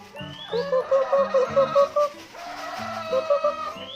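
Egg-laying hens cluck close by on a small farm, a run of repeated throaty clucks and a few higher squawks in uneven bursts over a steady outdoor background, no talk.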